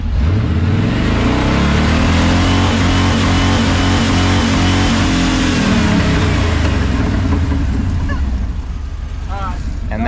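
An engine with its mufflers removed revs loudly and close by, rising and falling in long raw sweeps with a continuous throaty roar that eases off near the end.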